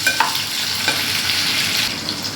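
Onions sautéing in a pan for an okra tamarind curry, a close, steady sizzle with a few light stirring scrapes early on; brief and alone, no talking.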